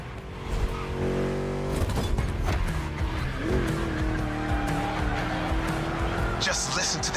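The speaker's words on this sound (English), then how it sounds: "Just listen to that V8, like a chunky, down-tuned guitar riff." V8 race car in The Crew Motorfest roaring around a track, a loud continuous engine note that rises and falls through gear changes with brief tire squeal, close and steady, with a voice talking over it.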